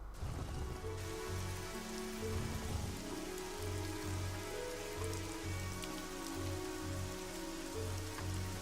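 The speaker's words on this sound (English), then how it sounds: "Let's get out of here while it's raining." Rain falls steadily in the video game Evoland 2, a soft, continuous patter over a looping low musical pattern, with no voices.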